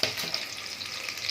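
Chicken sizzling in hot oil in a pan, a bright steady frying hiss with small crackles, close and continuous, no talk.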